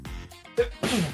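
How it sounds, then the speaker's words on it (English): A single sharp, loud sneeze bursts out near the end, after a few short spoken words from people gathered in a room. "You just so rudely interrupted all of us with your sneezing."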